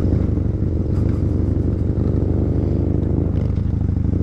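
A motorcycle, ridden on a German motovlog route, shifts into second gear and pulls away. Its engine rumbles loudly and steadily up close, with light clattery ticks and a slight rise near the end and no speech.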